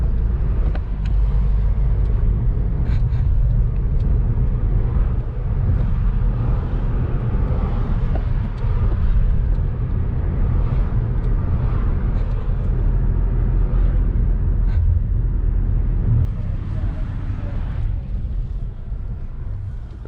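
Dense city street traffic in the US, a loud unbroken roar of cars and larger vehicles rolling past nearby for a long stretch, easing slightly toward the end, with no one speaking.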